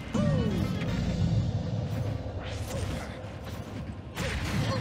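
Mario's forward smash attacks in the Super Smash Bros video game land as repeated heavy crashing hits and mechanical clatter, loud and close over a busy bed of game sound and music.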